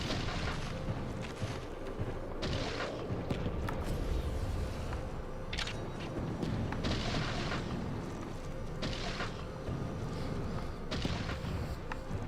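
A flamethrower firing in the mech game Mecha Knights, a continuous roaring whoosh with rumbling low thuds and periodic bursts over the steady blast.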